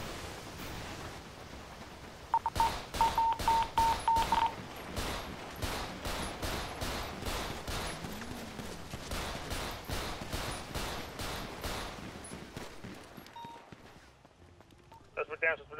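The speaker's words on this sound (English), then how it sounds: "Main bank, shots fired." Rapid gunfire rattles through a bank ambush in the video game GTA 5 roleplay, shots cracking in dense, repeated bursts for most of the stretch before thinning out near the end, with voices talking over the shooting.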